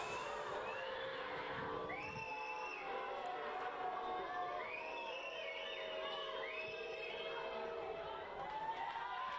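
Fans of the Tbilisi rugby side Tsikara roar from the stands, a dense continuous wash of shouting and whooping voices with rising and falling calls, loud and sustained, with talk blended in.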